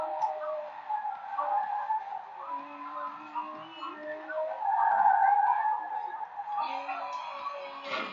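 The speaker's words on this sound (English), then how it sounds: "I do like the sound of this car." A race car engine in Forza revs and whines steadily, shifting pitch as it accelerates, with tire noise and a game soundtrack feel throughout.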